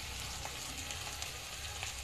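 Onion and prawns fry together in a pan, giving a soft, even, continuous sizzle with faint crackles and no voices.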